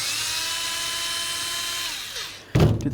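A power tool spins a 7mm socket to remove an ignition coil nut on a 1992-99 GMC K1500 truck. It gives a steady high-pitched whir that winds down, then a loud metallic clatter closes the clip.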